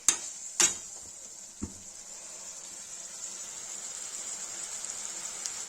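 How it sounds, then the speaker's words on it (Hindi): Cabbage, potato and peas frying in a pan, opening with two sharp utensil knocks and a dull thud, then a quiet, steady sizzle that builds slightly. "ये चावल है, ये गोभी, आलू, मटर, इसको मैं फ्राई कर रही हूँ।"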